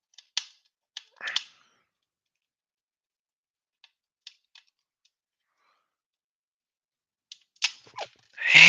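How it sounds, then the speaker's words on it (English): Scattered small clicks and ticks, then a sharp cracking snap near the end as something hard breaks, followed by a loud rustle. "And I just snapped the screwdriver."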